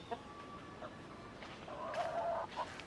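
White Choco Hatch gamefowl chickens at a farm let out short, soft clucks and a brief louder squawk, moderately close, against steady outdoor background noise.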